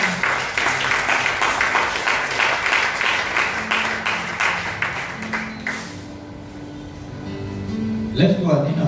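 A church congregation at a fasting and prayer service applauding to acclaim God, with rhythmic clapping and cheering voices over the first six seconds, then fading as a voice hums and speaks.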